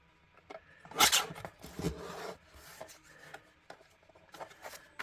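Paper pocket for a handmade craft card being trimmed, a close rasping cut-and-rub burst followed by softer scraping and light handling sounds, no talking.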